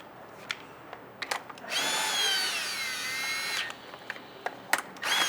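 A power drill driving screws on a string trimmer whirs in one steady burst of about two seconds. Scattered clicks and handling knocks come before and after.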